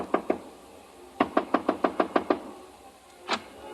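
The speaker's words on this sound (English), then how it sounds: "I stopped in front of room 300 and knocked." Knocks on a hotel room door: two quick raps, a pause, then a brisk run of about seven even knocks, with one more faint knock near the end; close and clear with no talk.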